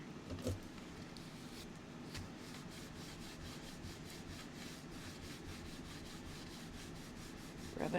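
Steady, continuous rubbing on paper to lift off excess glue, an even close-up scratchy friction that runs without pause, with a couple of faint knocks at the start and end.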